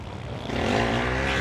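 A quad bike engine drones close and loud on the sand track at the Monte Gordo Sand Race 2024 quad event, a steady buzzing roar that swells slightly as it passes.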